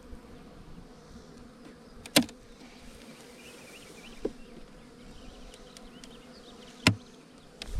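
Honeybees buzzing around a backyard hive, a steady soft drone of many insects close by with a few sharper clicks or taps, and no talking.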